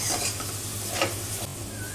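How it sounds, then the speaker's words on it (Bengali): Masala sautéed with a little water in a pan for a pumpkin and potato curry, with steady close sizzling and repeated scraping of a spoon stirring against the pan, no voices. "কষানোর সময় একটু অল্প অল্প করে জল দিয়ে কষালে পরে মশলাটা কষানোটা খুব ভালো হয়"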